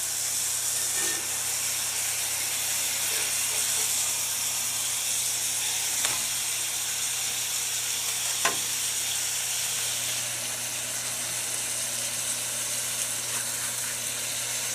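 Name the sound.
hamburger patties sizzling on the stove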